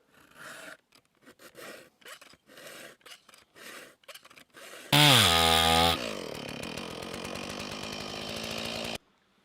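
A saw works through wood during axe making: a series of rhythmic rasping strokes, then a sudden loud motorized roar that shifts into a steady high buzz before cutting off abruptly, close and loud.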